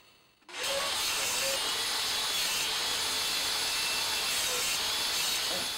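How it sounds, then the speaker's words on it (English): A saw cuts wooden caster rails to length for a wheeled fire pit base, giving a steady, close, unbroken cutting noise for several seconds with no talking. "now I just need to cut the caster rails to length"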